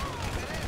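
A brief burst of gunfire in GTA V, faint and muffled, with rapid shots blending into background noise.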